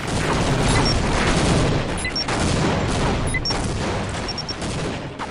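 Rocket blasts in a Team Fortress Classic multiplayer match, with dense, loud, continuous explosive roar and rumbling booms filling the mix, and small metallic pings and tones cutting through now and then.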